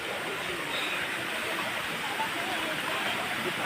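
A hillside stream flows over stones, a steady broad rushing wash of water at moderate distance, constant with no distinct breaks.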